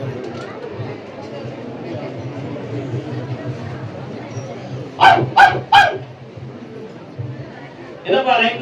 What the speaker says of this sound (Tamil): என்னப்பா லைன்ல ரொம்ப நாய் குறைக்கு உங்களுக்கு தெரியல.